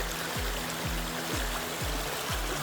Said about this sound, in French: j'aime beaucoup ces endroits en fait où on a des rivières comme ça